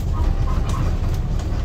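A tram on line 18 runs through Arad during track works, giving a steady, close, rolling low rumble throughout with no voices.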